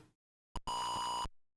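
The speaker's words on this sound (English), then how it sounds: "it's beeping at me because the copy utility is basically" An Atari 8-bit computer gives a steady electronic beep during a DOS file copy: a short blip, then a sustained tone lasting about half a second, alone with no talk.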